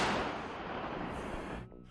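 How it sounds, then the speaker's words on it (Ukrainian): A single heavy boom from an M46 artillery gun firing, the blast rumbling and decaying over a couple of seconds before cutting off. "Гармата! Вистріл!"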